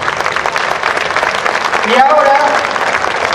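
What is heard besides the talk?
audience applause at historical reenactment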